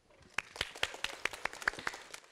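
An audience applauds for a couple of seconds, with brisk, irregular claps that are fairly loud and close and have no voices over them.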